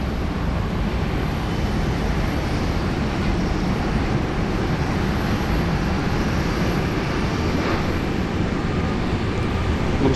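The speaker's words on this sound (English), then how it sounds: "The Royal Australian Air Force KC-30 tanker arriving here on runway 16 right." A Royal Australian Air Force KC-30 tanker arrives on runway 16 right at Sydney Airport, a steady, broad jet roar held at an even level for the whole stretch, with no talking.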